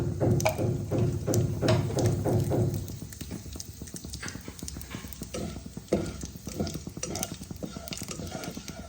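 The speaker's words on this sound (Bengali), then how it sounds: "এবার আমি তেল গরম হওয়ার পরে দুটো তেজপাতা, দুটো শুকনো লঙ্কা আর অল্প জিরে ফোড়ন দেব" Bay leaves, dried red chillies and a little cumin crackling in hot oil as tempering for mixed-vegetable moong dal, a busy close sizzle with quick spattering pops and clinks, louder at first, then steadier.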